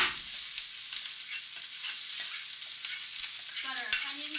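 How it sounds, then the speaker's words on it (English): Onions of two colors with peppers and garlic sautéing in oil in a pan, giving a steady close-up sizzle with light stirring scrapes and a few louder clatters near the end. "Got our onions in there, both colors. We've got our garlic. We're just going to saute it up."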